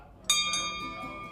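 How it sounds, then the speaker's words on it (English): A bell is struck twice in quick succession, each bright metallic clang ringing out with a long, sustained shimmer that slowly fades, fairly close and alone. "Can I ring the bell now?"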